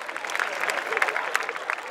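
Audience applause at a Greek stage comedy show, a steady patter of many hands clapping at moderate volume throughout, with a few louder claps standing out.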